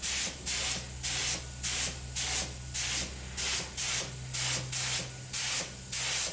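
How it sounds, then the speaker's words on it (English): Eastwood spray gun laying a coat of primer on an E30 M3 car body: a steady run of about fourteen short, even hissing bursts with brief gaps between, close by and with no talk. "This is coat 1 at least. I'll probably do a couple coats here. This gun is so nice. It's the Eastwood gun."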